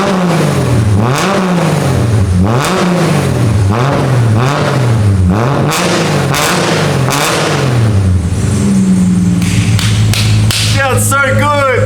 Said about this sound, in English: I'll definitely give it some revs.